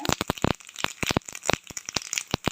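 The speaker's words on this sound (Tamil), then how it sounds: "எண்ணெய் காஞ்சிட்ருக்கு இதில் கடுகு சேர்த்துக்கலாம் ஜீரகம் சேர்த்துக்கோங்க" Mustard seeds and cumin crackle in hot oil for a coriander-pepper rasam, sharp close pops bursting in quick irregular clusters, loud and alone without talk.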